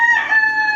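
A backyard rooster crows in one short, clear, nasal call, close and loud with no other sounds.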